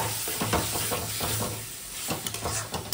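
Spiced masala for a quick paneer curry being stir-fried in oil in a pan, with steady sizzling and repeated scraping stirs at close range and no voices.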